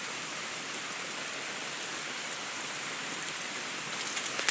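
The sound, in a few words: heavy rain falling outdoors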